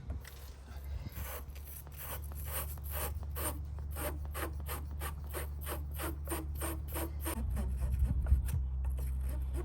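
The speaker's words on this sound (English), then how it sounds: "I want to clean the post up with one of these post cleaners." A car battery post scrubbed with a post cleaner on a Corolla, a steady rhythmic rasping scrape of rapid back-and-forth strokes, close and continuous over a low hum.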